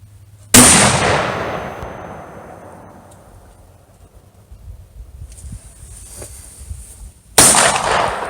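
Two loud rifle shots from a Thompson Center Compass in 6.5 Creedmoor, fired outdoors at a range, one near the start and one near the end, each a sharp crack followed by a long fading echo.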